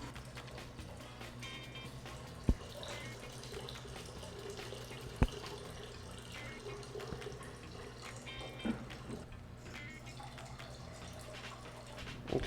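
Cold brew coffee trickles and drips while straining through paper towels, a quiet continuous liquid sound with occasional sharp ticks over a low background hum.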